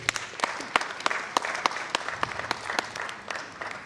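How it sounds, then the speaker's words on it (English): An audience at a university professional career day applauds a professor of ecotoxicology as he comes forward, with steady mid-level clapping and sharper individual claps standing out. "Keep clapping as Professor comes."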